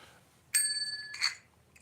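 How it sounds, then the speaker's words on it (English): A regular manual bell is rung outdoors at night near a church, giving a sharp metallic ding with a sustained ringing tone, then a second quick strike, loud and close against quiet surroundings. "Okay, regular manual bell,"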